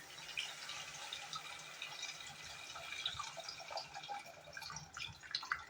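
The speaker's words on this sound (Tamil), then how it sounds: "அப்புறம் புளி தண்ணி ஊற்றுங்க." Tamarind water is poured steadily into a pan, a soft, continuous trickling and splashing heard close up and quiet.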